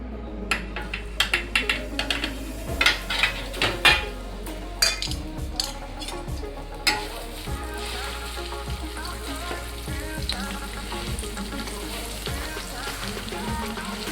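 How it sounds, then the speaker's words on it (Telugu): Fish frying in smoking-hot oil for Telangana fish curry, a steady low sizzle beneath repeated clinks and scrapes of a utensil against the pan, moderately quiet and close. "మంచిగా ఆయిల్లో ఫ్రై చేసుకోవాలి."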